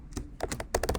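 A short burst of typing on a computer keyboard: about eight quick, close key clacks in an uneven rhythm, with no voices.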